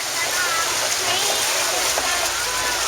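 A safari truck pushes through floodwater on the way to Kilimanjaro, with a steady close rush and splash of churned water over a low engine drone, continuous and fairly loud the whole way.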